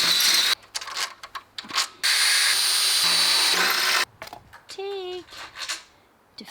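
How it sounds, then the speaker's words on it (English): A power drill bores holes into new Renogy solar panels during a van build. Short and long loud whirring bursts stop and start between quieter gaps, and a brief high squeal rises near the end. "we're going to drill into our brand new solar panels"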